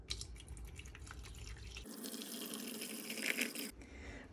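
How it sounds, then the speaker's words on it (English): Filtered water is poured into a glass coffee pot, a soft trickling splash that shifts in tone partway through as the pour changes, faint and close with no talking. "Taking our water, we need a full coffee pot of water."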